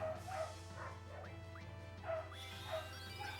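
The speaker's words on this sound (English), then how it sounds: "I think our dog is outside, and our dog is gonna bark too" Pet dogs yapping and barking in quick irregular bursts with some whimpering yips, fairly close over a constant low electrical hum, no one speaking.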